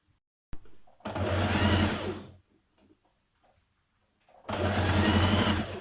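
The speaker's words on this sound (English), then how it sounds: "you're going to stitch that in with a 1 centimetre seam this time" A sewing machine stitches a dress lining around the armholes with a 1 cm seam, running in two close, steady bursts of rapid whirring separated by a pause with small handling clicks.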